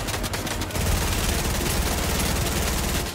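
Rapid bursts of automatic gunfire from the Fortnite video game, a dense, continuous clatter of shots that runs loud and steady through the whole stretch.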